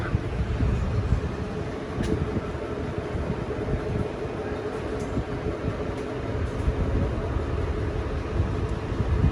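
An old railway train rolls along with its wagons, giving a steady, continuous low rumble and rattle from onboard, with faint occasional clanks and no talking.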